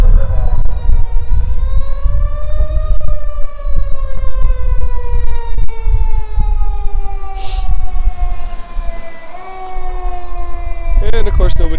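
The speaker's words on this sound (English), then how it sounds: "So we have a fire truck coming." A fire truck siren wails loudly and close, its pitch sliding slowly up and down over heavy low engine rumble.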